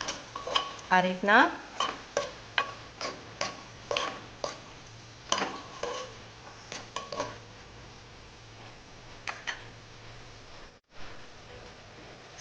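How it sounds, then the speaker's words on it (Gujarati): A spoon stirring spices and peanut powder into a green vaal curry in a pot, with repeated rhythmic scraping clinks close by, a few words spoken over it, then quieter stirring. "હવે તેને મિક્સ કરી લઈશું"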